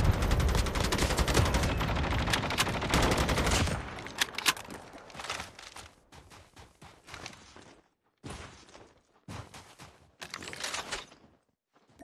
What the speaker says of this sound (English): Assault rifle here.